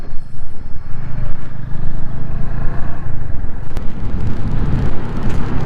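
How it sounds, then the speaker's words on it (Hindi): A Yamaha FZ25 motorcycle rolls along slowly on a solo countryside ride, its engine a steady low rumble mixed with wind noise, close and continuous. "अब यहाँ पे स्लो जा रहे ना अपन, बाइक की आवाज़ सुनिए आ रही।"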